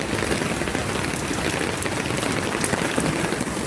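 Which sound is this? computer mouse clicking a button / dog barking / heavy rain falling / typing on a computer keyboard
heavy rain falling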